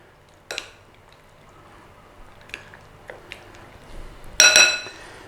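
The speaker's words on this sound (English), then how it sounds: "a couple of tablespoons of beaten egg. And all we're going to do is give that a mix in" Beaten egg being stirred into beef in a bowl, heard as a few scattered clinks and soft wet scrapes that end in a louder clatter near the close, with no talk.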